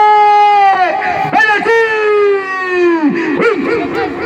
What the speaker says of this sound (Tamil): ஆம்புலன்ஸ் ஓசை